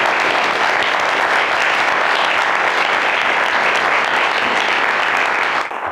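A church audience applauding, loud sustained clapping from a full room, even and dense for several seconds before starting to fade at the end.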